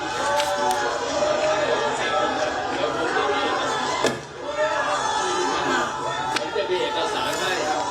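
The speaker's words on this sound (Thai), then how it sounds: "ตอนนี้มีเสียงโห่จากประชาชนที่มาปักหลักนะฮะ" A crowd of protesters camped out at a rally boos and jeers in a dense, continuous roar of many voices. The sound stays loud and steady for about eight seconds, with only a brief dip midway.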